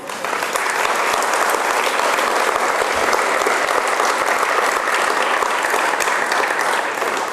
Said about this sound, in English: I think Jonathan needs another round of applause myself.